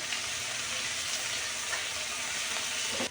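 Leafy greens fry in a pan with onion, garlic and chili, giving a steady, close hiss and sizzle with faint crackles throughout, ending with a small clatter.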